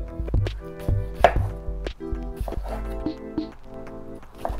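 A knife chops hot pepper into small squares on a cutting board, giving a run of sharp, close, irregular taps over roughly five seconds with no talking.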